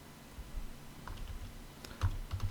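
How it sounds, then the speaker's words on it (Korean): A few light key clicks of a computer keyboard as the Alt+S save shortcut is pressed in Hangul 2010 word processing software, faint and sparse against quiet room noise. "저장 기능 키는 Alt 더하기 S고요. Alt S 누릅니다."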